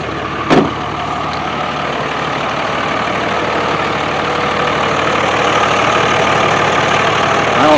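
A Dodge 3500 pickup with a 5.9 Cummins diesel engine idles steadily after starting, a loud even rumble that stays continuous throughout, with a brief knock near the start.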